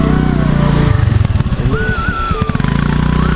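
A Hero Splendor motorcycle engine labours uphill with a steady, rough low drone that pulses and wavers as it strains under load, loud and close throughout.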